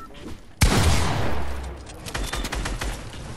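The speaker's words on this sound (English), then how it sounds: "I'm shooting him down." Gunfire in the Fortnite video game erupts as a sudden loud burst of rapid shots, then a quicker spray of repeated fire trails off, while players talk excitedly over it.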